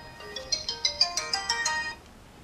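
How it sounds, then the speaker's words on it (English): A bright electronic ringtone plays a quick melodic run of chiming notes for about two seconds, then stops; nearby and fairly quiet, with no talking. "This is the phone ringing."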